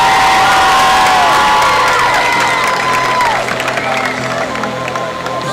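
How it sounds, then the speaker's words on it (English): A large crowd at a high school homecoming football game cheers and applauds loudly and continuously, with high whistles, whoops and shouts rising above steady clapping. "Please welcome her with a round of applause."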